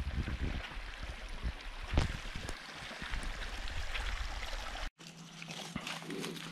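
A river trickles and flows into a bay at Isla Viveros, Panama, giving a faint, steady watery wash. The sound breaks off briefly near the end, and no one speaks.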